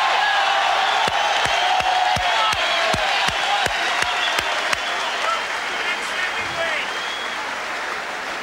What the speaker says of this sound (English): The crowd chanting the next heavyweight champion, Mike Tyson.